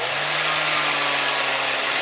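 A power sander works wood to shape the wing of a gargoyle-shaped letterbox, giving a steady, close, continuous whirring hiss with a low hum underneath and no pauses.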